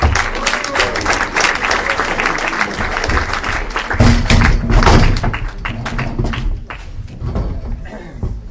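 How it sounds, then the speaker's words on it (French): Audience at a comedy club applauding and cheering, a dense close wash of clapping that swells midway and then thins out, with voices mixed in. "Faites du bruit pour Nadjet et Pierre"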